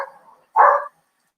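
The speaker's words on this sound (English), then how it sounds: "gee, all the dogs are barking." A dog gives a faint, fading yip, then one short, sharp bark at moderate distance, followed by silence.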